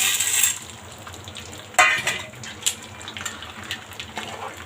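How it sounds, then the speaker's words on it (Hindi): Sago pearls (sabudana) are dropped into hot frying oil, giving a sudden sharp sizzle that settles into a steady crackling hiss with a few brighter pops, heard up close. "तो देखिए, हमारा तेल हो चुका है गरम, और अब हम इसको सारे को डाल देंगे साबूदाने को।"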